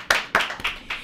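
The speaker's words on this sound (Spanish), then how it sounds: "¡Un aplauso!" Four sharp, close hand claps spaced evenly in about a second, greeting a guest on a live radio show.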